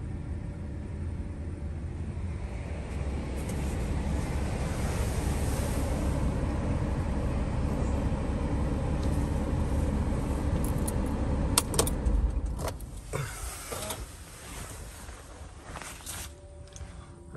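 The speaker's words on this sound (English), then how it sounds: "So let's go and turn the engine off." Campervan engine idling with a steady low rumble and rattle, then shut off around the twelve-second mark, leaving a few faint clicks and knocks as the noise fades away.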